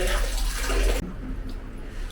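Water runs steadily into containers at home during a Dhuleti (Holi) celebration, a loud rushing flow for about a second that then drops to a quieter, continuing trickle.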